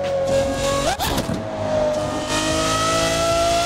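A car engine in a driving video game, a BMW M340i on a No Hesi server, revs loud and steady, dips briefly, then holds a sustained high whine with no talk over it.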